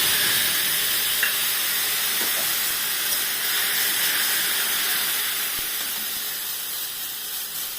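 Garlic, chili and ginger sizzle loudly in hot oil tempered with nigella seeds and bay leaves for a Bengali pabda fish curry, a dense, continuous hiss that eases slightly toward the end.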